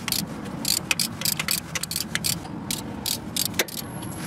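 Ratchet spinning off bolts from the timing chain cover of a Pontiac Fiero 2.8 or 3.4 engine, a T40 Torx and 13 mm sockets in use, giving quick bursts of close, repeated clicking with short pauses between them.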